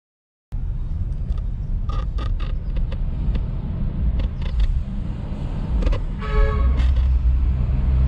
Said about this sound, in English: I will jump back into my car. I will drive past them slowly